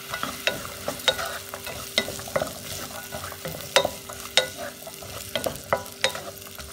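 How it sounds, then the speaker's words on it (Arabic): Onion and vegetables fry in a pan on a gas stove, with a steady sizzle broken by repeated sharp scrapes and knocks as they are stirred, close and fairly loud. "هلأ بحط الخضرة كمان وبقليها"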